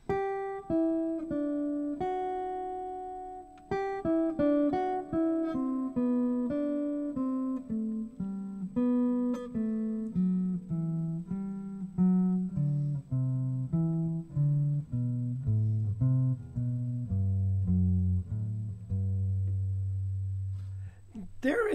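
Guitar picking a steady descending sequence of single notes, each plucked clearly and ringing briefly, stepping gradually lower in pitch over about twenty seconds with no talking.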